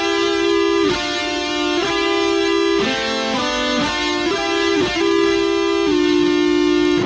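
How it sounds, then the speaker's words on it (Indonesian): An electric guitar plays sustained single notes doubled by a harmony effect pedal, giving a two-voice tone; clear, loud, with no talking. "Kita tambahkan efek yang lain, kita pilih harmoni, bunyinya seperti ini."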